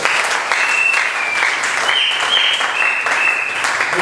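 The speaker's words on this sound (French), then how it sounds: "Applaudissez pour le Seigneur" A church congregation claps loudly and steadily in rhythm during worship, a dense, close wall of applause with a high sustained tone threading through it.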